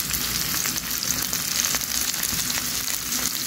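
Tomatoes hit hot oil in a frying pan, giving a steady, dense sizzle that stays loud and even throughout, close up with no talking.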